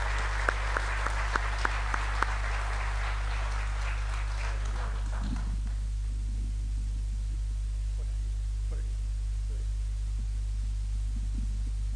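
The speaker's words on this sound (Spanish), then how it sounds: "Le recibimos con un cariñoso y fuerte aplauso." A crowd at an Asturian song contest in Cangas del Narcea gives a performer warm applause. The clapping is dense for about five seconds, then dies away, leaving a steady low hum and a few faint noises.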